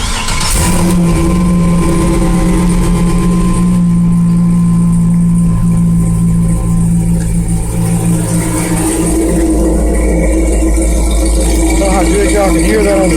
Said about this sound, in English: I got a little exhaust clip here